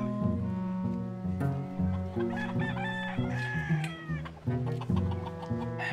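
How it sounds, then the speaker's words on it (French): Several Haitian roosters crow with long rising calls while hens cluck steadily throughout, close and busy, with overlapping calls from different birds. "Les coqs haïtiens sont bons, mais pas tous."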